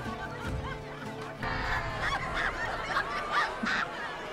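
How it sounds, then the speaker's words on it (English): Chickens clucking in a series of short, fairly quiet bursts over a soft background, from a fantasy television episode. "Chickens!"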